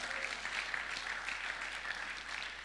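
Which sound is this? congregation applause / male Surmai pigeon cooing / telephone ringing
congregation applause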